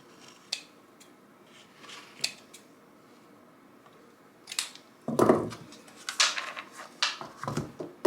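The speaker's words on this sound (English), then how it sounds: "I'm just going to take my scissors and kind of trim this up a little bit" Scissors trim glued-on craft material, with scattered sharp snips early on, then a denser run of close, crisp cuts toward the end.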